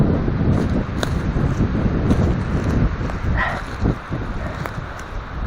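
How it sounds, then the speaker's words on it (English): Wind gusts through a small wood, a steady broadband rush with rustling and microphone buffeting throughout, loud and close with a few brief knocks but no talking. "It's actually quite windy in here."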